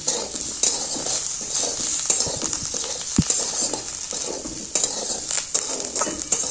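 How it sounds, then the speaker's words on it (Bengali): Small potatoes with green chillies and coriander leaves sizzle steadily in hot oil while a utensil stirs and scrapes them in the pan, with occasional clinks over the constant frying hiss. "দিয়ে এবার ভালো মতো নাড়াচাড়া করে নেব।"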